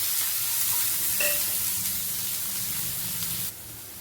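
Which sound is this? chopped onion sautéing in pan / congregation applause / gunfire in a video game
chopped onion sautéing in pan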